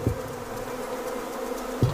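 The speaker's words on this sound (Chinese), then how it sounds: "随着蜂巢上的蜜蜂越聚越多" Honeybees swarm and cluster onto a hive raft held up on a pole, a steady, dense buzzing throughout, with a couple of dull low thumps near the start and end.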